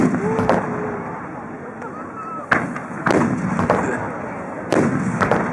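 Large No. 10 fireworks shells from a 50-shot barrage at the 2011 Lake Suwa fireworks festival, booming in a series of heavy, irregularly spaced blasts with echoing tails and faint crowd noise between them.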